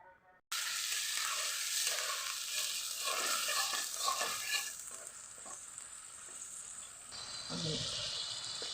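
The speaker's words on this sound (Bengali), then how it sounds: "একটু ভাজা ভাজা হয়ে গেলে মশলাটা কষানোর জন্য সামান্য পরিমাণে একটু পানি দিয়ে দিলাম" Spices frying in oil in a pan as a little water is splashed in, giving a loud, busy sizzle with stirring that shifts into a hissing steam burst partway through, with no talk.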